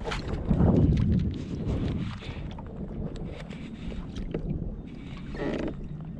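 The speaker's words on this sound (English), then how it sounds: "I'm dealing with that by pedaling slowly into the wind" A pedal kayak trolls slowly into the wind on a bay, with soft water sloshing, light knocks of the hull and a steady rush of wind noise across the microphone.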